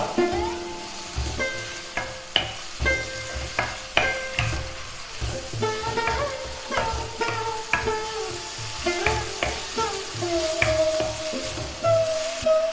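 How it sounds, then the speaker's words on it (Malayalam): Chopped banana flower stir-frying in a pan for a Kerala thoran, with steady sizzling broken by repeated scraping and clattering from the spatula, close and fairly loud throughout, no voices. "വാഴക്കൂമ്പും ചേർത്ത് നന്നായിട്ട് മിക്സ് ചെയ്തെടുക്കാം."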